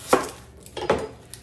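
Onions chopped with a knife on a board: two distinct, close chopping thuds about three-quarters of a second apart, with faint kitchen noise between them.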